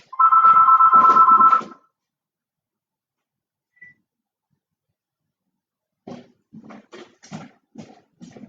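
A telephone rings indoors with one loud, steady electronic tone lasting about a second and a half. A long silence follows, then a person begins talking quietly.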